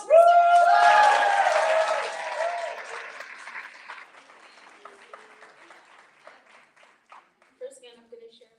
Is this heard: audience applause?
yes